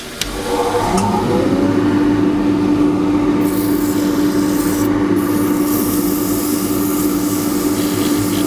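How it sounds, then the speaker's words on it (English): Sandpaper of 180 grit rubs against a small natural-edge wooden bowl spinning on a lathe. A steady, loud abrasive hiss runs continuously under the lathe's hum, with no voices. "we can sand that, so this will be 180 grit"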